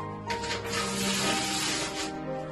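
Waste paper being torn into pieces for a papier-mâché balloon craft, a steady dry ripping hiss that runs continuously for a couple of seconds at close range with no talk.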